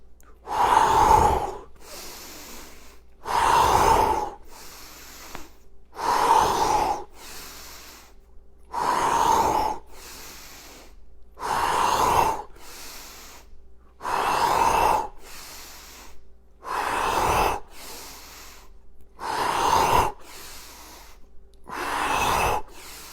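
Heavy rhythmic breathing during a home arching exercise, about ten long forceful inhale-exhale cycles at a steady pace, loud and close with no talking.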